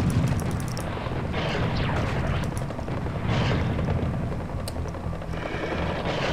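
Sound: rocket launcher explosions in video game Serious Sam HD

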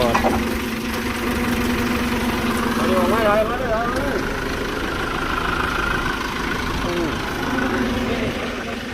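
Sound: Hino truck WO6E 165 hp diesel engine idling

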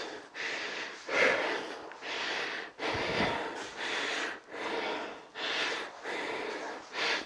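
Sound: exhaling hard during dumbbell lunge exercise

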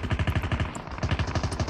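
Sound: gunfire in a Call of Duty video game

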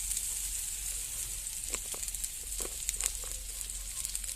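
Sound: fish frying in oil

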